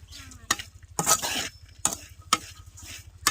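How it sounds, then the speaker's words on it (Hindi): Salted mixture for rolls being stirred in a pan, a spoon scraping in four or five distinct strokes with light clinks and a faint sizzle underneath, close and clear with no talking. "सभी को एक साथ चलाकर हम अच्छे से मिक्स कर लेंगे"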